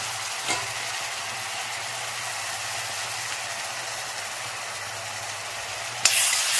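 Fried mackerel sizzles steadily in hot oil in a pan as ground spice paste is added, with a continuous crackling hiss, a faint clink early on and a sharper clatter near the end.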